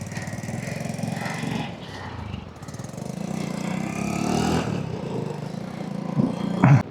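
A Honda Splendour motorcycle engine runs just after being started on choke, giving a steady, close, buzzing low drone that swells slightly midway and stays loud throughout, with no talking.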